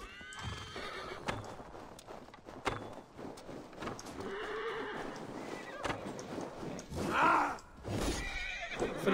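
A horse whinnies in Assassin's Creed Valhalla, a high neigh rising near the end among hoof clops and game ambience, while someone talks over it.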